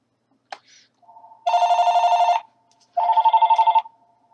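A telephone rings in two long electronic bursts with a brief chirp before them, loud and close, no voices.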